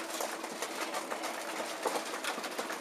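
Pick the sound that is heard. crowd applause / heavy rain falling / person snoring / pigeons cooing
pigeons cooing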